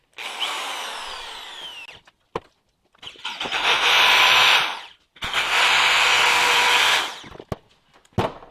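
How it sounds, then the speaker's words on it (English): Electric drill boring into a wooden board for a homemade deer spreader, three separate whirring bursts, each ramping up and cutting off, with brief clicks and silence between them, close and loud. "Got my electric drill here."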